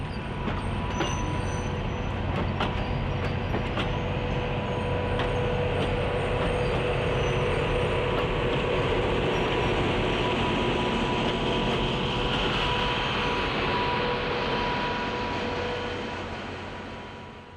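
An NKP GP30 and a C&O GP7 diesel locomotive roll through open countryside with a long, steady engine drone and wheel rumble, heard at a moderate distance and fading slightly at the end.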